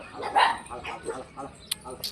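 Puppies bark and yip in small, high-pitched short bursts close by, mixed with a person talking over them.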